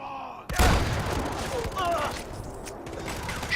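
Gunfire in the video game Far Cry 4: a loud sudden blast followed by a rumbling barrage of shots and booms, with a voice talking over part of it.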